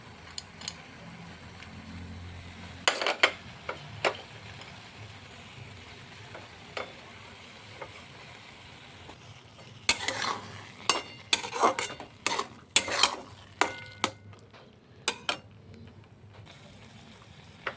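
Ghee-fried cashews and raisins are stirred into carrot halwa in a pan, with a low sizzle under scattered sharp scrapes and clinks of a spoon, sparse at first, then a rapid cluster of stirring knocks.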